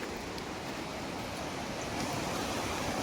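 Steady rushing water roars continuously below, like a waterfall or fast stream nearby, in rainy-season Kanthalloor, with no voices.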